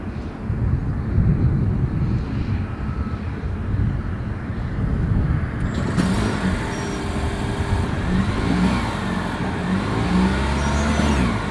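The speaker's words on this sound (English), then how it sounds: "here is that exhaust clip." Lexus UX 250h hybrid starts up with a sudden rise in noise partway through, then a low, steady exhaust hum and faint engine whir settles in, recorded up close outdoors.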